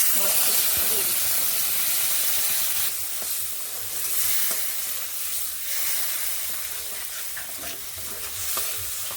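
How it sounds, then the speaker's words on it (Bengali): Tempering spices, including black cumin, sizzling loudly in hot oil as they are stirred, a dense crackling hiss with scattered scraping clicks close at hand. "ফোড়নগুলোকে এইভাবে নেড়ে নিচ্ছি কয়েক সেকেন্ড"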